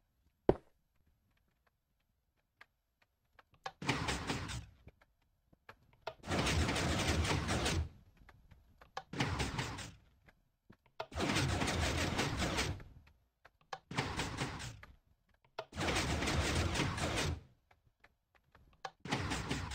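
A Minecraft 4x4 shutter piston door opens and closes repeatedly, each cycle a loud, broad mechanical whoosh lasting a second or two, separated by near-silent gaps in a regular rhythm.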